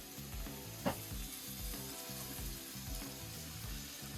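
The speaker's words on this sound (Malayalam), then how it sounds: "ഇപ്പൊ സവാള പെട്ടെന്ന് വഴണ്ടു വരാനായിട്ട് നമ്മൾ ഇടുക കുറച്ച് സാൾട്ട്" Onions fry quietly with salt in leftover fish-frying oil for a fish egg dish, making a faint, even sizzle over a low rhythmic mechanical hum, with one brief clink near the start.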